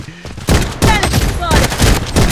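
Gunfire in the video game Blood Strike, loud close bursts of rapid shots in quick clusters with overlapping echoes.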